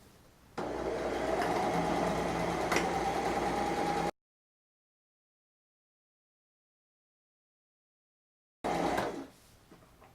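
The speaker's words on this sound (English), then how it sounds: "let the sewing begin" A sewing machine runs steadily for about three and a half seconds, stitching fabric looped around its arm while sewing Simplicity 8672 comfy pants, then cuts out abruptly to silence before a brief final burst of running.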